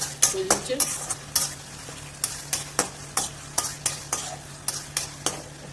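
Spice masala with chopped coriander leaves being stirred in a frying pan for chicken keema, with a steady run of regular scraping stir strokes over a soft background sizzle, close and clear, no talking.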